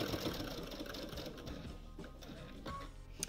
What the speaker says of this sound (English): it's just a matter of stitching all the way around the edge of your quilt